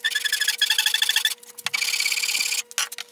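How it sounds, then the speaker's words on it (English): Sandpaper taped to a sanding beam rasps over the tenon of an acoustic guitar neck in repeated even strokes, a close, loud rhythmic scraping in two long bursts separated by a brief pause, with no talking. "I've got a piece of sandpaper taped to it, and I'm taking the same amount of strokes on each side of the tenon"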